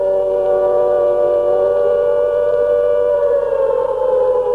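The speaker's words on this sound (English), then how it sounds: "The air raid siren sounded all over England" A WWII air raid siren sounding across England holds a steady, loud, unbroken wail with a layered tone throughout, with no voices over it.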